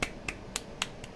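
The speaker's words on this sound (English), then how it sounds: "That was me clapping, by the way." A person claps their hands five times in a steady, evenly spaced rhythm. The sharp, fairly quiet claps sound close and alone, with no talking.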